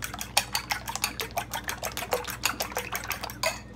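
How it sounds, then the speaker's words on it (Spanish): Four eggs are whisked in a bowl with a utensil, a fast, steady run of close clicking strokes against the sides that keeps going without pause, with no voices. "Aquí voy a estar utilizando los 4 huevos. Moviéndolo bien pronto."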